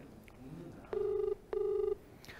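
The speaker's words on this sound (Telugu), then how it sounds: "నిఖిల్ ఫోన్ రింగ్ అవుతుంది" An outgoing telephone call rings back twice, two even, sustained tones separated by a short pause, fairly clear against faint background noise.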